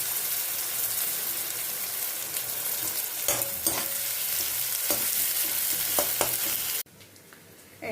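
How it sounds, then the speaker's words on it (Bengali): Chopped onion and fenugreek leaves frying in a pan, with a steady loud sizzle, scattered stirring scrapes and clinks, then a sudden drop to a quieter hiss near the end. "এবার মেথি শাকটা এর মধ্যে দিয়ে দেবো ভেজে।"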